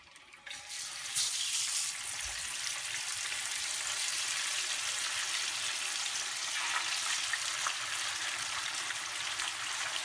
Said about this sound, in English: Now I'm going to put the tofu in the hot oil, just let it sizzle.